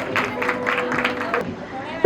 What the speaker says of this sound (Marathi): तर एकदा श्रुती मॅम साठी जोरदार टाळ्या झाल्या पाहिजेत.